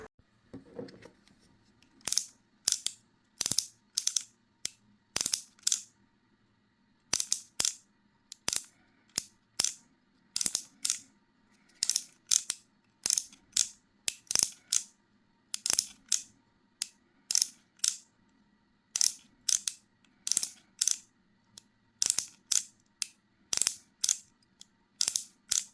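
A Brdclip hair clipper lever is worked over and over, giving a long run of sharp, close ratcheting clicks in quick bursts with brief pauses between them. No one speaks.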